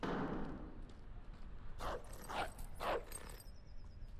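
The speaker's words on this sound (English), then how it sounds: "Hi, doggy!" A dog in the Call of Duty: Modern Warfare campaign gives three short barks or yips at a regular pace, moderately close, over a rumbling game background.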